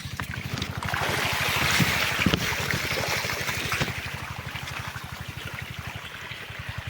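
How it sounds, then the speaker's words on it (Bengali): Irrigation water pours from a pipe into a crop field, a steady rushing wash over a fast regular mechanical thumping, likely from a pump, with no voices. "তো এই তো পাইপ দিয়ে জল আসছে, পাইপের সাথে সাথে যাচ্ছি আমি।"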